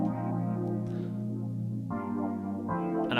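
A Native Instruments electric piano preset called 4 Weasels plays warm sustained chords alone, with a couple of chord changes and clear, steady level.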